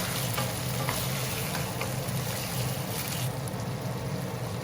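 Tomatoes and sauce frying in a pan while being stirred, a loud, steady close sizzle with faint scraping and no talk, as for scrambled eggs with tomatoes.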